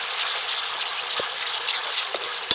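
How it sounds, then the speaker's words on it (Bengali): Masala spice paste fries in oil in a pan for a bata fish curry, giving a steady, close sizzle and hiss with a few faint stirring taps and one sharp clink near the end. "অল্প একটু জল দিয়ে মশলাটাকে ভালো করে কষিয়ে নিতে হবে"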